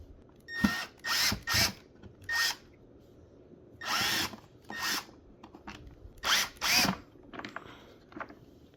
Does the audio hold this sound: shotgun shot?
no